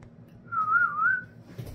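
A single clear whistled tone, made within 30 seconds of eating crackers, wavering up and down in pitch for just under a second, close and steady, with no voices.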